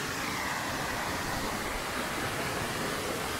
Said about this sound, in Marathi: हा बघा अप्रतिम असा छोटा धबधबा